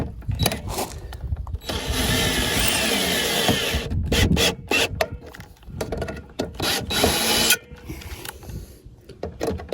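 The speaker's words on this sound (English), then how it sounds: "Careful putting your screws back in." Screws driven back into the headlight housing of a Kenworth W900 truck during an LED light install: a steady rasping, rubbing scrape runs for several seconds, broken by short gaps and scratchy bursts, close and fairly loud.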